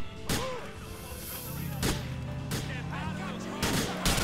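Shotgun blasts in Grand Theft Auto IV boom out several times at irregular intervals, sharp and loud, over a running car engine and shouting voices.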